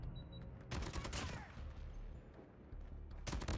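Sharp bursts of gunfire in the mobile shooter Call of Duty Mobile, a few loud clustered shots near the start and end over a steady low background hum.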